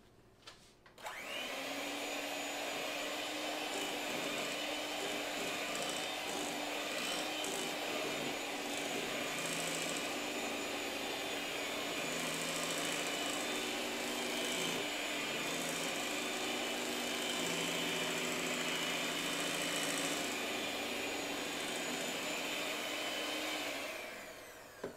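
An electric mixer beats orange pound cake batter, a steady, close motor whir that runs unbroken for over twenty seconds with no talking.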